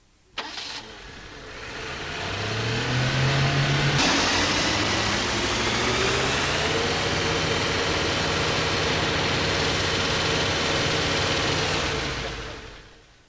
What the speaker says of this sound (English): start the engine and run up to charging speed, about 3000 revs per minute